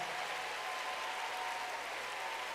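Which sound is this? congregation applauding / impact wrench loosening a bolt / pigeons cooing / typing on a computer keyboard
congregation applauding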